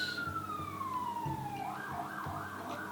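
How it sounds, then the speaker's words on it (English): An ambulance siren wails outside, its pitch sliding downward as it passes and then warbling on, heard through a room over steady traffic rumble at moderate distance. "No, it was an ambulance."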